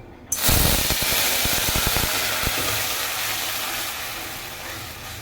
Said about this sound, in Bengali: এবার সরিষার জলটা দিয়ে দেব।